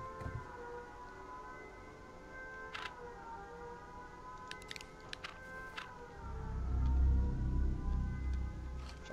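A wailing siren tone in the video game H1Z1: Battle Royale sustains in the background with faint clicks, then a deep low rumble swells near the end.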